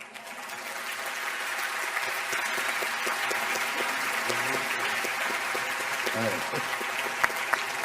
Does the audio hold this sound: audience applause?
yes